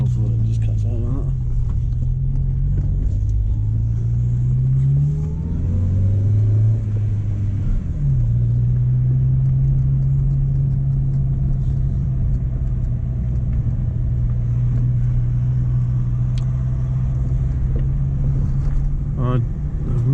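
A Mk1 Renault Clio engine idles with a steady low rumble, its pitch wavering and dipping as it stumbles before settling back, a close continuous hum throughout.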